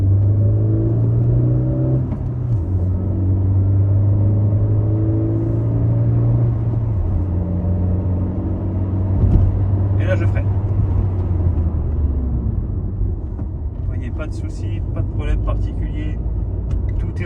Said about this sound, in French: Et ici je vais faire une petite accélération et un freinage plus poussé au bout.